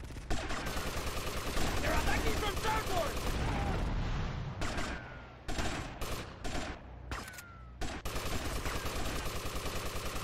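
Gunfire in the video game GTA Vice City during a boat defence scene, dense rapid bursts and booms with brief gaps, loud and continuous, while someone talks over it.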